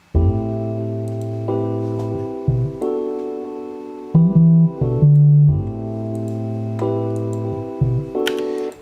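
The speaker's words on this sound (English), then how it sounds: "I had to distort the bass and punish the bass, so it sounds like this." A distorted synth bass line in a music production plays a steady melodic pattern of sustained, buzzy low notes that shift pitch every second or so, loud and continuous with no voices.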